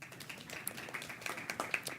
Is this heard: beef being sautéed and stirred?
no